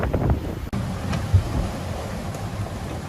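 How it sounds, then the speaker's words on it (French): Strong wind buffets the microphone in a continuous low roar aboard a Pogo 30 sailboat at sea, with gusty rumbling and a faint rush of water underneath. "il y a trop de vent"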